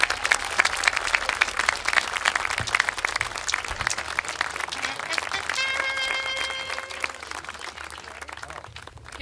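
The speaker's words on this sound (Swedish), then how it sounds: "En stor applåd." An outdoor audience at Lundbjärs in Lummelunda claps after a concert by a band. Loud, continuous applause runs for about nine seconds, with a brief ringing tone midway.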